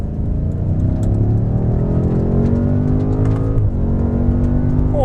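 A BMW M5 F90 in all-wheel-drive sport mode accelerates hard from around 3,000 RPM, its engine note rising steadily through the rev range before a brief dip at a gear change, then climbing again, loud and continuous from inside the cabin.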